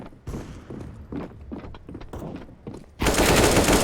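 A Negev machine gun in Counter-Strike: Global Offensive fires in rapid, uneven bursts of loud, punchy shots, ending in a sustained blast of continuous gunfire.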